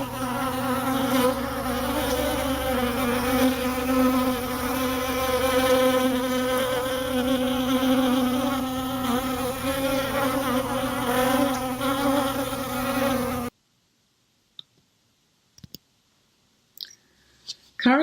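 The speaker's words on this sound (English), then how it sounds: "the bees are drinking, grooming, socializing" Bees buzzing steadily around a water source near a healthy hive, a dense continuous insect hum for most of the stretch, then cutting to near silence with a few faint clicks.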